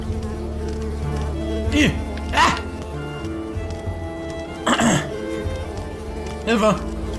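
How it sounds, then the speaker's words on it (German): Insect buzzing from mosquitoes in the video game Unravel, several short whining swells rising over steady game music and ambience, with a person speaking briefly. "Hilfe! Mücken!"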